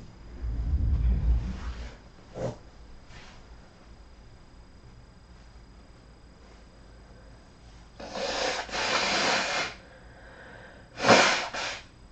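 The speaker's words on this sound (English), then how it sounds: "Let me blow my nose." A few loud, breathy nasal blows in short bursts, separated by quiet pauses, close to the listener.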